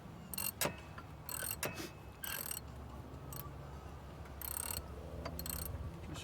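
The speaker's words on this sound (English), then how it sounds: "I've got a wrench that will ratchet." A ratchet wrench clicks in short bursts on the power steering reservoir bolt of a 1996 Jeep Grand Cherokee, several quick ratcheting runs separated by pauses over a low background hum.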